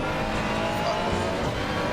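A Ferrari GT3 race car at Spa-Francorchamps in the video game Assetto Corsa Competizione roars steadily with engine drone and tire squeal as it catches oversteer, loud and continuous throughout.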